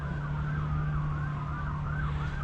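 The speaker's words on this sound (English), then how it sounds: "now I hear the sirens" Emergency vehicle sirens wail in the distance, a steady rising and falling tone over a constant low rumble, heard outdoors during a snowstorm.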